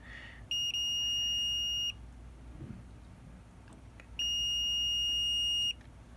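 A multimeter on continuity mode, testing components on a Nintendo Switch, gives two sustained electronic beeps of about a second each, separated by a quiet gap with faint handling noise.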